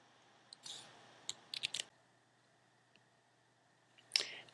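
Someone types a short description on a computer keyboard in a few quick bursts of close, crisp key clicks separated by quiet pauses, with a faint steady background hum.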